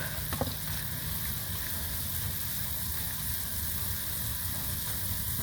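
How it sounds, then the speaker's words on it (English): Butter seasoning stirred into a sizzling one-pot Thanksgiving meal cooking in a van, with a steady close frying hiss throughout and a few faint utensil scrapes near the start. "I'm gonna put some of this butter seasoning in. And give that a stir."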